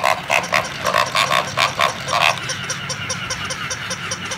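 Two furless animatronic toy pigs walk: rapid rhythmic oinking grunts from a built-in sound unit, close and fairly loud, over a steady mechanical whir and clicking, with no talk.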